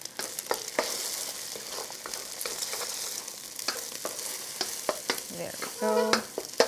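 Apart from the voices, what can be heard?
scrambling eggs in a wok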